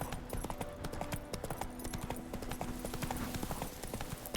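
Roach the horse galloping through White Orchard in a video game, rapid rhythmic hoofbeats clip-clopping steadily throughout, close and even.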